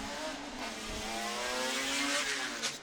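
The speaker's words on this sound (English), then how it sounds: "leaves the line in that E46 M3 BMW" A BMW E46 M3 drift car at a pro-am drift competition accelerating off the line, its engine revving up in a rising, steady roar with harmonic whine, heard from a moderate distance.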